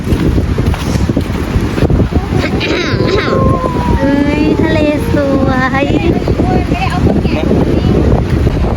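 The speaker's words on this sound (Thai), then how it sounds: "ลมมันแรงมาก" Strong wind at the seaside at Cha-am beach in Thailand buffets the microphone in a constant loud roar, with a voice talking over it in the middle.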